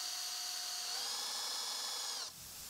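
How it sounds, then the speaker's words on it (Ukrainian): A high-pitched power drill whines steadily for about two seconds, drilling holes in a metal pike fishing lure, its pitch rising slightly, then cuts off abruptly, leaving faint room noise. "Свердлимо отвори"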